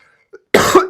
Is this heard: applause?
no